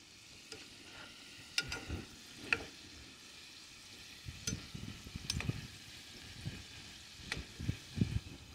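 Fries frying in a pan make a faint, steady sizzle with scattered pops and clinks of stirring, heard close in a quiet kitchen with no talking.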